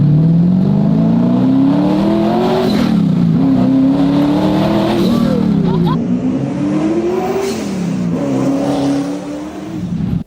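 A 1,200-horsepower twin-turbo car engine with boom tubes, sounding like a NASCAR cup car, revs loud and close in repeated rising surges that fall away and climb again.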